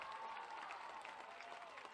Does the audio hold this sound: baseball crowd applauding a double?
yes